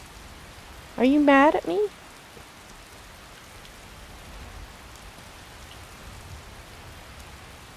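Steady rain falls in the video game Skyrim, a soft continuous hiss of drops on the ground throughout, with a brief spoken question near the start.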